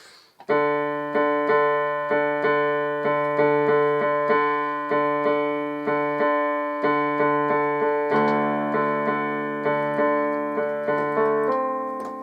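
Solo piano plays the slow, gentle introduction of the theme from Pirates of the Caribbean, with evenly spaced notes and chords ringing out and decaying in a steady rhythm.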